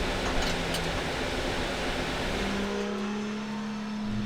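Race car engine idling and running at the track after starting, a steady rough mechanical drone with a low tonal hum holding throughout, fairly close and continuous.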